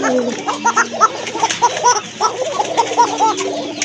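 Pigeons cooing repeatedly in a close, busy chorus of soft rhythmic coos, with someone speaking underneath.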